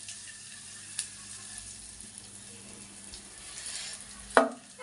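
Curry leaves, dried chillies and asafoetida sizzle softly in hot oil, a faint steady crackle with a couple of sharper spatters and a stir or clink near the end.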